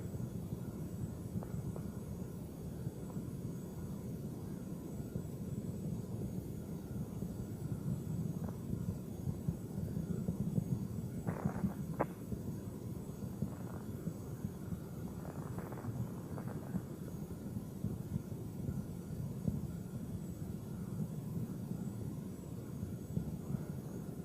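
Space Shuttle Endeavour's twin solid rocket boosters roaring during the STS-88 launch ascent, a distant, steady low rumble with wind-like buffeting, sustained throughout with a few brief crackles midway.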